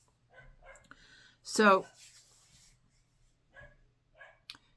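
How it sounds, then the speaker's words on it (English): A puppy gives one loud yelping bark close by, amid faint whimpers and soft sounds, while a person speaks briefly and quietly. "I can hear the puppy"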